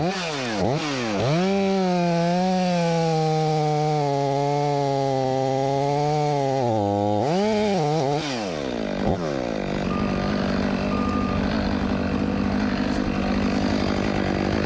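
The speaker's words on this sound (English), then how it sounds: "22-inch pin oak, and you can hear it kind of bogged down" A Stihl 500i chainsaw cutting through a 22-inch pin oak, its loud engine whine bogging down and wavering in pitch under load before settling into a steady rough drone near the end.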